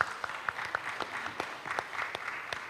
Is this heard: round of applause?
yes